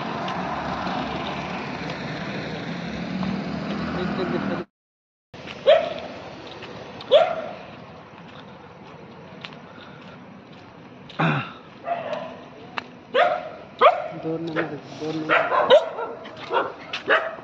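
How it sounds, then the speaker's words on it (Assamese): Large dogs bark at night outside Assam Medical College in Dibrugarh, with sharp barks and yips, some near and some farther off, over a hum of background noise. "আৰু এইবিলাক কুকুৰবোৰ চাওকচোন, একদম পূৰা মস্ত সেইকেইটা।"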